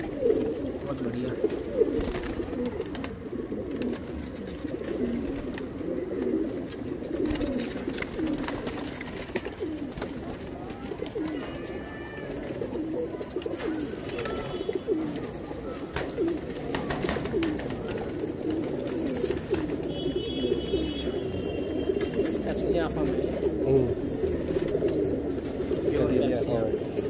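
Soft, low pigeon cooing repeats throughout a pigeon shop in Delhi, mixed with a busy background of many birds and someone talking over it.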